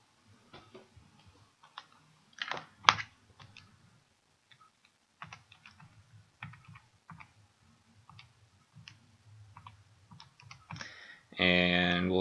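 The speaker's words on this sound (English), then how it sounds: "we'll just type this into our calculator" Quick, irregular clicks of buttons being pressed on a calculator, close and fairly quiet, in short bursts with pauses between them, ending in a louder burst of sound.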